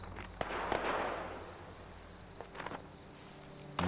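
Distant gunfire as Liberator bots fight in Fallout 76, scattered sharp cracks and pops with a roaring burst, faint and spread over a few seconds.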